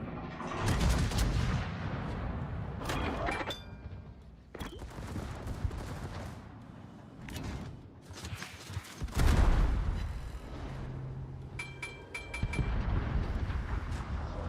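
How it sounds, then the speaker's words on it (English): Repeated battleship gunfire in a naval warship video game, heavy booms and bursts of shelling rolling through the whole stretch with little let-up, loud and close, over a dense layer of battle noise. "the other battleships are shooting at him"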